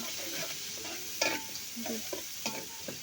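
Onions and green chillies frying with ginger, garlic, cinnamon and cardamom in a village kitchen pan: a quiet sizzle broken by several distinct scraping stirs and clinks of a spoon.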